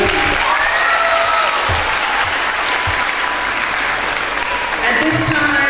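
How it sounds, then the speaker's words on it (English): Loud, sustained audience applause at a girls' summit event held at a college, steady dense clapping filling the whole stretch, with occasional cheers and voices rising above it. "Give yourselves a round of applause for ladies."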